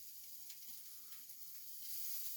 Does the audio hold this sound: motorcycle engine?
no